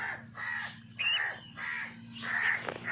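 A crow caws repeatedly and loudly, about four harsh calls in a steady rhythm, close by.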